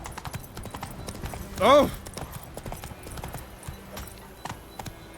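Hooves of the horse Roach clip-clopping in the video game The Witcher 3: Wild Hunt, a soft steady walking rhythm under game ambience, with a brief voiced exclamation rising over it partway through.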